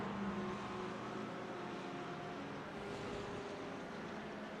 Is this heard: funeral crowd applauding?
no